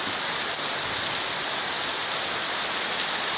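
Heavy rain pouring down outdoors in a rural area during a windy storm, a loud, steady, dense hiss of drops drumming on surfaces with no pauses or voices.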